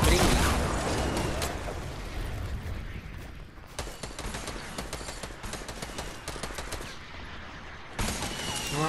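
Rapid gunfire in Fortnite rattles almost without pause, loud and dense, with bursts and mechanical clicks and a few sharp louder blasts, as in a shotgun fight.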